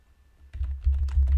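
Quick typing on a computer keyboard: a short burst of close, clicky keystrokes that starts after a brief quiet moment and runs steadily to the end.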